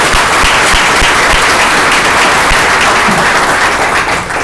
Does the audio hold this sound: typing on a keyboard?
no